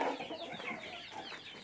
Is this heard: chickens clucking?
yes